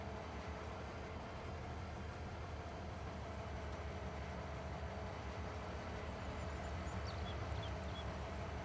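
In Farming Simulator 22, train wagons roll along steadily on the Upper Mississippi River Valley map, making a faint, continuous low rumble with a soft mechanical clatter that holds level throughout.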